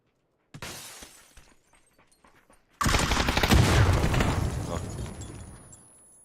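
Grenades burst in a ranked online shooter match: one sharp blast followed by a second, louder explosion with shattering debris that rumbles and fades over several seconds, close and loud, with no talk.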